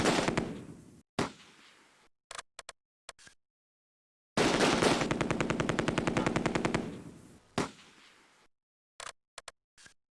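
Gunfire in the wartime tactics game Close Combat: A Bridge Too Far: loud machine-gun bursts with a long sustained rattle in the middle, separated by single shots and brief silent gaps.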